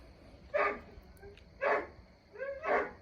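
A dog gives three separate whiny, crying barks spaced about a second apart, quiet and somewhat distant over faint background hum.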